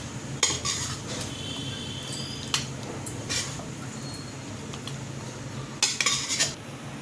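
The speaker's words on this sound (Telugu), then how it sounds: "ఇప్పుడు సర్వింగ్ బౌల్లో తీసుకుంటున్నాను." Cooked chicken fry being moved from a pan into a serving bowl, with a few sharp metal-on-metal clinks and scrapes of a spoon against cookware, spaced out over a quiet background.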